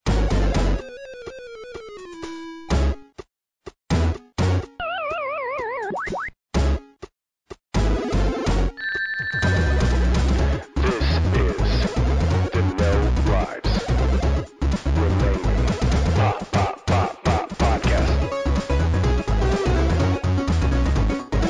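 Twilight Zone-style time travel effect: a dense, chaotic electronic cacophony with warbling, sweeping tones and sudden dropouts, loud and continuous for about twenty seconds with crash-like bursts.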